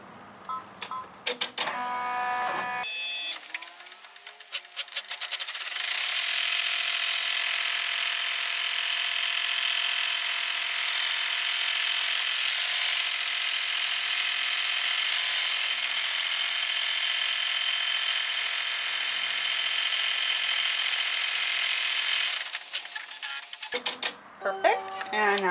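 An embroidery machine stitches a lined in-the-hoop corset shoulder zipper bag held in a 6x8.5 hoop, a steady high-pitched mechanical whir running loud and continuous for about twenty seconds, with brief handling clicks before and after.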